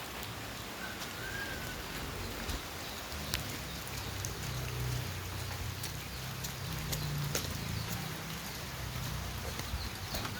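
Light rain falls steadily outdoors in the Philippines, a soft continuous patter of drops with low rumble underneath, moderately near and even throughout, with no voices.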